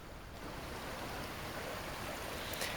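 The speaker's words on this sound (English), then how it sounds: "This creek is right next to the campground where I stayed the last 2 nights" A creek beside a campground in the Wallowa Mountains of Eastern Oregon flows with a continuous soft, hissing rush of water, quiet and even, with no talk.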